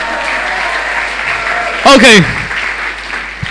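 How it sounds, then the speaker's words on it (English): An audience claps at a Sunday praise and worship service, a steady wash of applause under a short spoken word, with a loud whooping cheer rising briefly in the middle. "clap for them."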